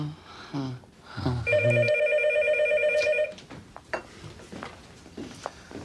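A home telephone rings loudly with a steady electronic trill for about two seconds, bracketed by brief speech beforehand and soft room sounds and shuffling afterward.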